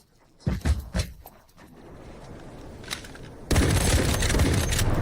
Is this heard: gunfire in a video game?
yes